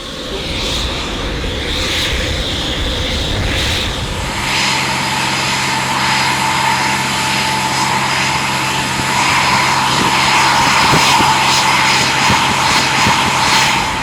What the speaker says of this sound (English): I have been asked to marshal down a plane.